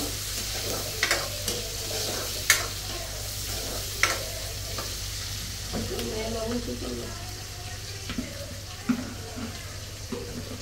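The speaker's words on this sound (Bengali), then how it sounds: "দিয়ে দিলাম, এটা খুব ভালোভাবে ভাজা নিব।" Ground garlic paste frying in a pan sizzles steadily and close, with scattered clinks and scrapes of stirring and faint speech in the background.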